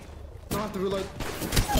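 Bursts of gunfire from a video game scrim against FURIA, a short loud volley after a brief lull, with a player talking over the shots.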